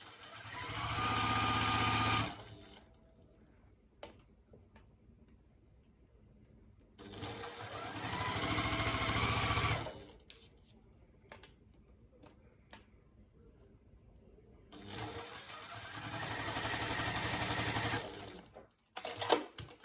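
A sewing machine stitches quilt block pieces for a Pieceful Baskets block in three steady whirring runs. Quiet pauses between the runs hold faint handling clicks.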